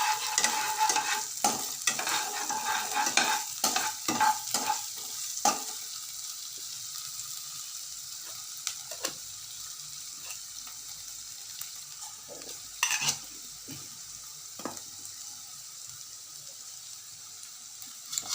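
Crushed ginger and garlic sizzle in a pan while a spoon stirs and scrapes, loud and busy with clattering strokes for the first few seconds, then settling into a quieter steady fry with occasional taps; cooked for an egg gravy thokku.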